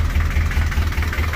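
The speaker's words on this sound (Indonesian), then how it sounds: "Mesinnya sehat sekali." A 1981 Daihatsu Taft F50 diesel 4x4 jeep engine idles close by, a steady low rhythmic chugging throb with even pulses and no talk over it.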